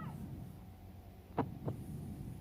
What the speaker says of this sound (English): Oh, it's like a heartbeat.